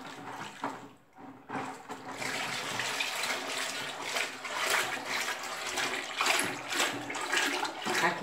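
Seven litres of warm cooking oil poured into a homemade soap mixture of alcohol and vinegar, a close, gurgling, splashing liquid flow that pauses briefly early on, then runs steadily with uneven glugs.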